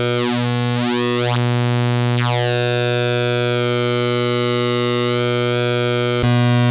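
A raw Solar 42F synthesizer oscillator morphing its waveform, a steady sustained buzzy drone whose harmonics sweep and shift in timbre, loud and alone with no voice.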